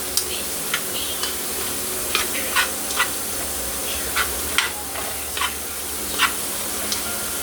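Cow foot sautéing in Jamaican curry, with a soft steady sizzle and scattered light pops and ticks spaced through the pan noise.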